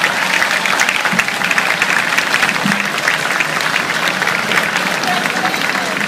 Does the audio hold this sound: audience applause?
yes